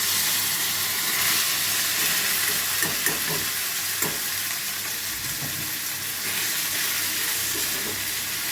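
Dry pasta tipped into a hot pan of oil with sizzling cumin seeds, giving a steady close frying hiss with a few small clatters and stirring sounds near the start and middle.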